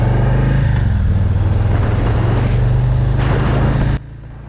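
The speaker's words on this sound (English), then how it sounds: "I just want to open this bike up and see what we're working with" A Harley-Davidson Street Bob 114 motorcycle with a big V-twin engine revs hard and pulls away, a loud steady rumble lasting several seconds before cutting off abruptly.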